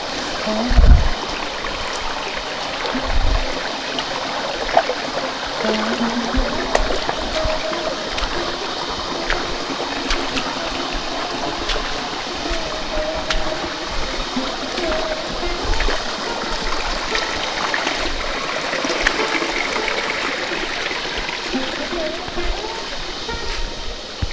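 A stream rushes over large stones in a rocky forest setting, a steady, fairly loud wash of water running throughout with occasional splashes and a few faint insect or bird calls.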